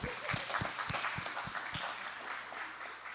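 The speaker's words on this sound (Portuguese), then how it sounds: "Vamos aplaudir." An audience claps in a church-style gathering, steady scattered applause with a few sharper claps near the start, moderately quiet and continuous throughout.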